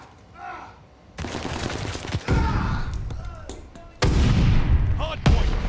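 Gunfire in a first-person shooter video game, heard as sustained bursts and heavy thumps around a contested hardpoint objective, loud and continuous, with game announcer voices and player talk over it.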